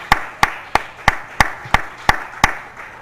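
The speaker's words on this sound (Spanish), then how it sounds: "Vamos a brindar un fuerte aplauso a nuestro Dios." Church congregation applauding in unison, eight evenly spaced sharp claps in a steady rhythm, loud and close with a little room echo between beats.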